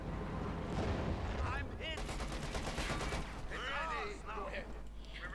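.50 caliber machine guns fire in the Company of Heroes 2 strategy game as rapid, dense bursts amid battle noise and mechanical rumble, with a voice talking underneath.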